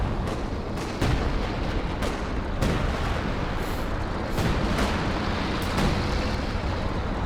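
Artillery barrage in Company of Heroes 2: scattered heavy booms and blasts over a continuous roar of battlefield noise, with no voices, steady and moderately loud throughout.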